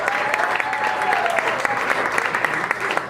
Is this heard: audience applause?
yes